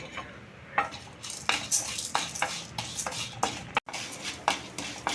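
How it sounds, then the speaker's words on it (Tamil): Urad dal and chana dal roasted in oil in a kadai for radish chutney, with a soft sizzle under repeated scraping and clinking strokes of a ladle against the metal pan. "அதில் வந்து உளுத்தம்பருப்பு, கடலைப்பருப்பும் நல்லா ஒரு கோல்டன் ப்ரௌன் கலர் வர வரைக்கும் நம்ம வறுத்து எடுத்துக்கலாம்"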